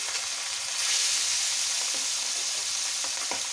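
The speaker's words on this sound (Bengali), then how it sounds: "আমি একটু ভেজে নিচ্ছি" Hilsa fish kebabs sizzle and crackle continuously in hot oil, a close, even frying hiss with a few faint clicks and no talk.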